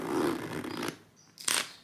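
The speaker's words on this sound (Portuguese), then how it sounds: "Fechei aqui a mala e agora eu vou fechar o zíper" A suitcase zipper is pulled shut, one long rasping run followed by a brief pause and a short final tug.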